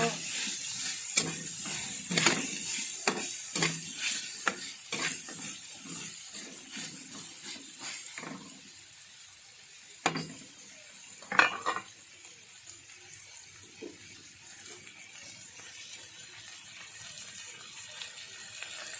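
Baguio beans being stir-fried in a pan: bursts of sizzling with spatula scrapes and metal clinks over the first seconds, then quieter sizzle with occasional sharp knocks.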